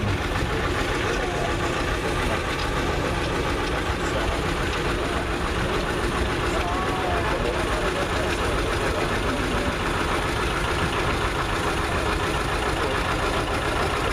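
A 1948 Ford 8N tractor engine runs steadily at a parade, a constant low rumbling drone with dense outdoor noise and a voice talking over it.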